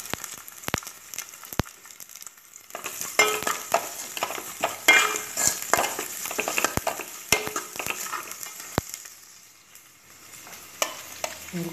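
Curry leaves sautéing in a hot pan with crushed broken wheat upma, a spoon stirring and scraping in bursts over steady sizzling, with sharp clinks of metal against the pan.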